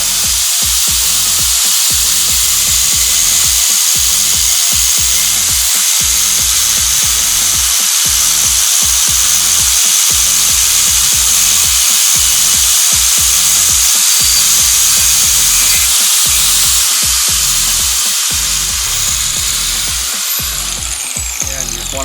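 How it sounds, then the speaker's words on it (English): Power tool cutting through a grade 8 heavy-duty bolt to make a stud for a truck gas tank, a loud continuous rough grinding with a steady pulsing rhythm for over twenty seconds. "So let's go ahead and just make our own stud by cutting."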